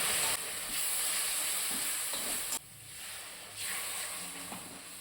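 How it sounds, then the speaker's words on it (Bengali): Ground cumin, Kashmiri chili and coriander powder cook in a pan with a little water, giving a soft hissing sizzle that drops briefly midway and then resumes, fairly quiet throughout. "জিরে গুঁড়ো কাশ্মীরি লঙ্কার গুঁড়ো ধনে গুঁড়ো অল্প একটু জল দিয়ে মশলাগুলো কষিয়ে নিচ্ছি"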